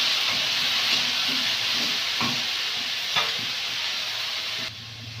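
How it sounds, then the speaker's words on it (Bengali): Vegetables frying in a pan with steady sizzling hiss throughout, punctuated by occasional scraping clicks of stirring, close and continuous with no talk. "দিয়ে ভালো করে সবজিটা ভেজে নেব"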